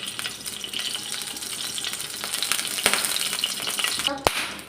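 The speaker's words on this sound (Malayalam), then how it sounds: "ഇതാ 1 സ്പൂൺ നെയ്യ് ഒഴിച്ചിട്ടുണ്ട്" Ghee sizzles and crackles in a non-stick pan on the stove, a steady bright frying hiss with a few sharp knocks and clatters near the end.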